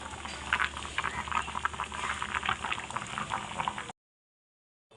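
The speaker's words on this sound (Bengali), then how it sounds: "তোমরা দেখতেই পেলে জলটা ফুটতে শুরু করেছে।" Water boils in a lidded pot for steaming Bengali ilish bhapa with a tiffin box inside, giving dense, continuous close-up bubbling and rattling for about four seconds before it abruptly goes quiet.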